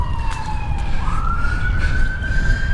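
A wailing ambulance siren sweeps low, then rises into a long steady high tone over constant city traffic rumble near Kewalo Basin Harbor, Honolulu.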